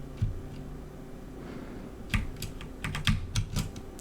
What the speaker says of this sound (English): I hope you guys enjoy the clicking sounds on the keyboard